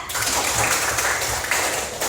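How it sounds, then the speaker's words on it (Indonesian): A classroom of students claps for a classmate in a short, close burst of many hands clapping together, steady and fairly loud throughout. "Berikan tepuk tangan dulu kepada Nabila"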